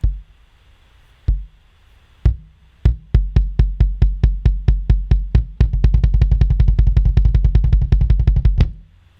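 A bass drum struck repeatedly with a dull, low thud: a few spaced hits, then a steady run of beats that speeds into a rapid roll, alone.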